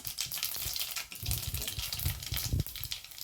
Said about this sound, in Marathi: तडतडतात जिरे बघा जिरे मोहरी